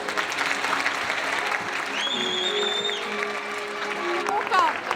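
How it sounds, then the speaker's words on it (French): An audience claps for the 7–9 age category winner at a children's beauty pageant in France, a steady wash of applause under a voice and some faint tonal sounds. "applaudissements pour cette catégorie des 7-9 ans."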